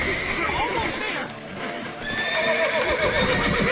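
A horse whinnies and neighs in The Witcher video game, close and loud, with hoof clip-clops and shouted voices mixed in over a few seconds.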